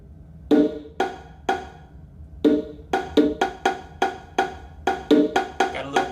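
Bongos played in a music production mix with reverb on them, sounding as crisp, bright hand strikes in a loose rhythm that speeds up toward the end, each hit trailing off into a short, roomy tail.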